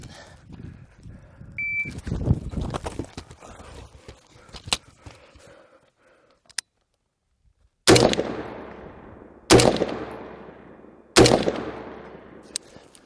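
Rifle fitted with an LPVO optic firing on a range: after a stretch of quiet handling noise, a few loud, sharp shots ring out about two seconds apart, each with a ringing tail.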